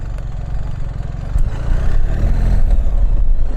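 A BMW R1300GS Adventure motorcycle cruises onto gravel, its engine a steady mid-low drone that swells louder about halfway through, with no voices.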